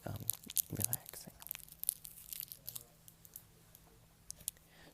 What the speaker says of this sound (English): So let me just get my candy open.